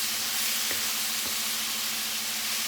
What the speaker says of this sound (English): I'm just going to saute it.